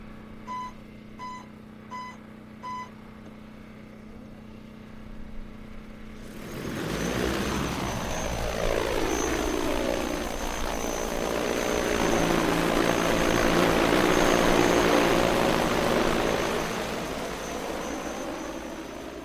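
A large agricultural crop-spraying drone, heavy enough to need two people to lift, starts up after a few quiet beeps and then roars steadily nearby with a helicopter-like whirring that swells and holds.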